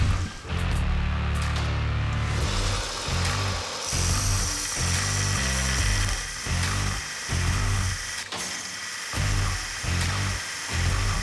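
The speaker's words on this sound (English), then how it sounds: "I'm going to start using the grinder on it instead." A grinder works a knife blade in a dense, loud mechanical whine with rhythmic surges and dips as the blade is pressed and lifted repeatedly throughout.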